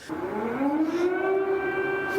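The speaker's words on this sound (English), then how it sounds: "we've got a siren that has just started" A civil defense air raid siren in Kyiv, Ukraine, wails steadily, its tone rising slowly and then holding a long, sustained pitch, with no voices present.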